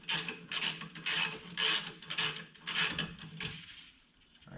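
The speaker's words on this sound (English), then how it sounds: "you need a 12mm wrench to remove the rear brake line here" A 12mm wrench working a rear brake line bolt loose on a Toyota 4Runner or FJ Cruiser: repeated raspy ratcheting and scraping metal strokes in an uneven rhythm, close and fairly loud, with no talk.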